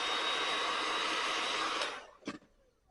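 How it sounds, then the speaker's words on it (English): A heat gun blows a steady, loud, hissing stream of hot air to warm tint film on a BMW headlight, running for about two seconds before cutting off, followed by a brief faint clatter. "we're going to heat up the film"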